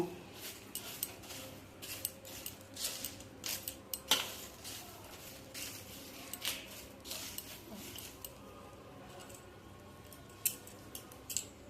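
Fried potato chips being tossed and mixed with black salt in a bowl: scattered crisp rattles, clinks and crunchy shuffling throughout, fairly close and quiet, with no talking.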